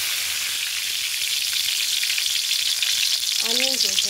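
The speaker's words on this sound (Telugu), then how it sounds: "ఇంక ఇవన్నీ మనము ఆయిల్లో ఫ్రై చేసేసుకుందాం రండి" Onions and vegetables fry in hot oil for an Andhra-style roti pachadi, giving a steady close hiss and crackle, with a voice speaking briefly near the end.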